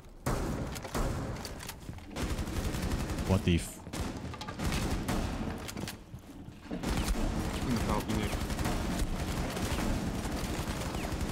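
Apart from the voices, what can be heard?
gunshots from a shooter video game (Rainbow Six Siege)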